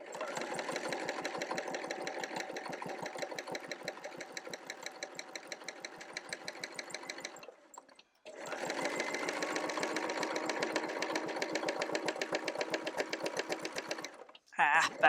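Sewing machine stitching quilt binding front to back, running in long rapid steady bursts close up, with a brief pause midway and a short stop near the end.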